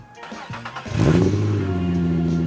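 A Nissan VQ-engined car with a second muffler added to its exhaust starts with a brief crank, then settles into a steady, fairly low, quiet idle through the exhaust, with a little background chatter early on.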